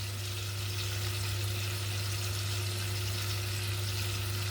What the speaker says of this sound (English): we keep stirring this, stir it round. There you go, it's starting to simmer a little bit